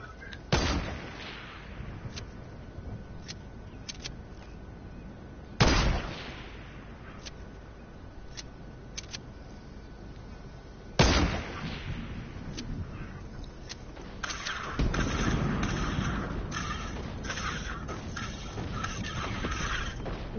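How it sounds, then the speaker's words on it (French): Rocket launcher shots in a multiplayer shooter on PS4, with three sharp, loud blasts spaced several seconds apart over ambient battle noise, scattered distant gunshots and clicks, and a denser rumbling barrage near the end. "Il tire au lance-roquette, l'autre."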